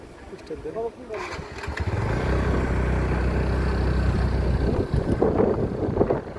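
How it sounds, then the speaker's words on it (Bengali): A motorcycle on a mountain road in Nepal starts up and settles into a steady, close engine rumble with some wind noise over the microphone, and a voice talks over it. "এখন আমার মোটর সাইকেল স্টার্টিং অফ আছে"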